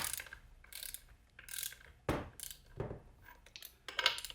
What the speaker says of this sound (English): These caps get torqued down to 60 foot-pounds.